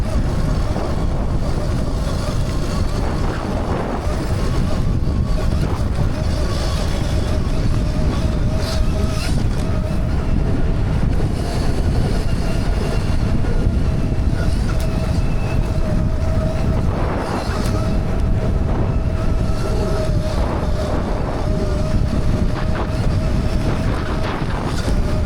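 A Mototec 60V Pro electric dirt bike ploughs through soft sugar sand, heard as a constant loud rumbling roar thick with wind buffeting across the microphone, continuous from start to finish with no clear voices.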